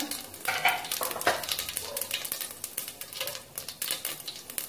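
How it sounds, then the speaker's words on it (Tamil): Mustard and fennel seeds sizzling in hot oil in a pan, a close, dense crackling hiss with small pops and occasional stirring clinks, steady throughout with no talking. "எண்ணெய் கூட வச்சிருக்கிறேன் கடுகு சோம்பு போடணும்"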